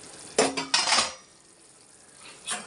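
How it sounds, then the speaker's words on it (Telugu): Metal clatter from the lid of a cooking pot of prawn and egg curry being lifted off, a few sharp clanks close by, then a brief quiet before another soft knock. "ఇప్పుడు లిడ్ ఓపెన్ చేసి"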